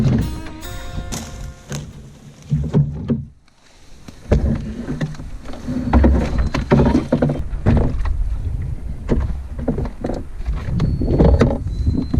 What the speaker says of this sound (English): we paddled the calmer waters of Trethewey Lake